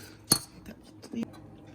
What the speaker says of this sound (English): My husband is helping me stir the grits